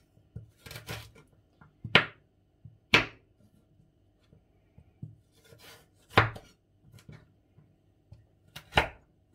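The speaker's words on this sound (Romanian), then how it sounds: "Morcovul se taie puțin mai greu, însă cu puțină răbdare vom reuși să-l tăiem" Knife chopping a carrot on a board while pickled green tomatoes and cauliflower are prepared: sharp, loud chops at uneven intervals, with softer cuts and scraping between them.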